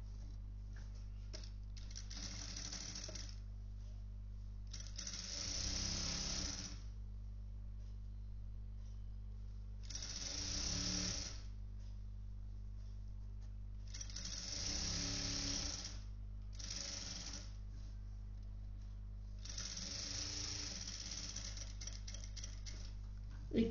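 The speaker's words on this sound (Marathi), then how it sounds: "आता इथे उलट्या बाजूने आपल्याला स्टिच करायचं आहे." Sewing machine stitching a frock in reverse: five separate bursts of steady mechanical whirring with short pauses between them, over a constant low hum, with no voices.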